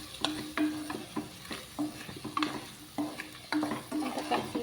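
Chili powder being stirred into a bitter gourd curry in a pan, with repeated spoon scrapes and taps against the pan in a steady rhythm over a soft, continuous sizzle; no voices.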